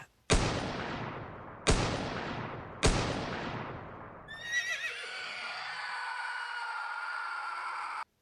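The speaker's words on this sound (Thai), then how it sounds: "จากนั้นเสียงปืนก็ดังสนั่นทั่วราวป่า" Three loud, sharp gunshots fire in slow succession, each trailing a long echoing decay, followed by a sustained high-pitched whinnying or tonal cry.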